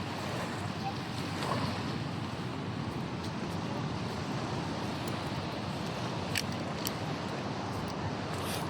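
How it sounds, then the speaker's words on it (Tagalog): Large ocean waves surge and wash around a small boat at sea, a steady broad roar mixed with wind buffeting the microphone, moderately loud and continuous with no talk. "Hindi kasi kami makaano lusot. Lalaki alon."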